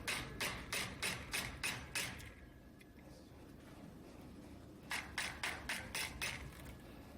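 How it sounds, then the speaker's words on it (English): A hammer drives a chisel to cut the cuff off a horseshoe, ringing out in two runs of evenly spaced sharp metallic strikes separated by a quieter pause. "And then take the chisel. You're going to chisel to your cut mark."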